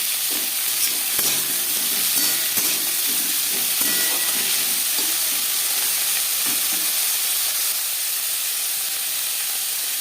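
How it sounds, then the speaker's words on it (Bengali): Vegetables frying in hot mustard oil for bread pakora, a loud, continuous sizzling hiss with occasional light stirring clicks and no talk. "তেল গরম করে নেওয়ার পর দিয়ে দিলাম ভেজিটেবল"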